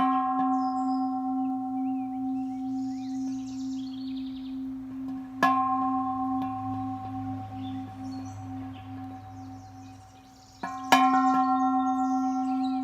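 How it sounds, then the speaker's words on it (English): A small gong at the edge of a woodland property is struck twice outdoors, each strike ringing out clear and loud with a long, steady humming sustain that slowly fades. "we're coming by a little woodland gong here right on the edge of our place here"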